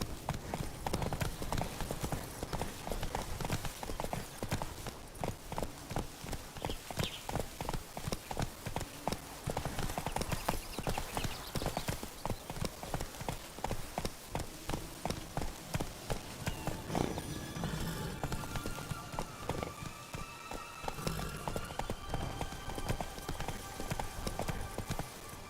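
Rapid, evenly spaced hoofbeats from the horse Roach galloping in The Witcher 3: Blood and Wine drum on for the whole stretch, loud and close, with game sounds behind them.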